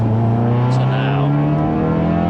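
A hybrid-turbo Audi S1 engine rumbles with a deep, loud, steady drone that holds throughout, with a brief higher whine partway through, while people talk nearby.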